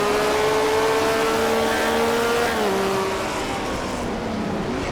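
The Detroit Gasket Buick race car laps Mid-Ohio in an onboard view, its engine a loud, steady drone that holds pitch, dips briefly on a shift, then carries on strongly.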